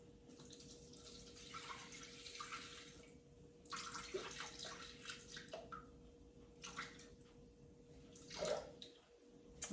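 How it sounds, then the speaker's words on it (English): Water is poured straight into a mixing bowl in a kitchen while making cinnamon roll dough, giving several short splashing, trickling bursts of pouring between quiet pauses, fairly faint and close. "we're going to add 250 grams of water just directly into the bowl"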